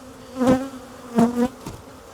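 Honey bees buzzing inside a hive box, heard as three close, loud swells of droning hum separated by quieter moments, with no voices.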